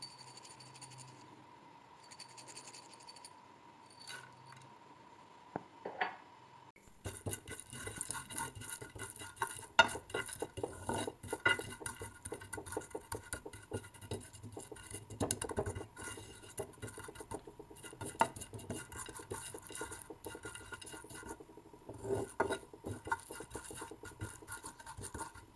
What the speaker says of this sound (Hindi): इनमें भी पटाख पटाख की आवाज़ें आएंगी आपको।